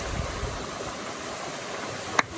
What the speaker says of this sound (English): This is the waterfall, Shengjergj Waterfall.